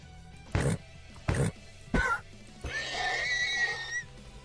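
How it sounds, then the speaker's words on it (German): Three loud, separate thumps land at evenly spaced intervals, followed by a single drawn-out whinny from a horse in Minecraft that lasts about a second and a half. "Pferd."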